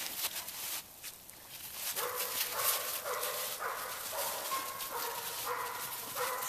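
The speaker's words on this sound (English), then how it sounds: "Good dogs." Dogs give a few faint, scattered barks and yips at a distance, low in level and spread across several seconds with quiet gaps between them.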